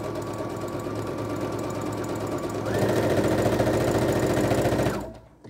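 Sewing machine stitching a seam right along the fabric edge with grey thread, a steady dense mechanical whir that speeds up partway through, then stops abruptly near the end.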